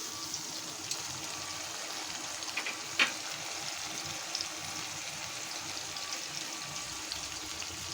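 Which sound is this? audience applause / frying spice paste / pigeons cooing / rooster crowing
frying spice paste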